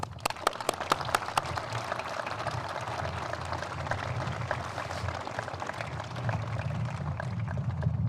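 An outdoor audience at a high school graduation ceremony applauding, a steady distant wash of many hands clapping that swells slightly toward the end.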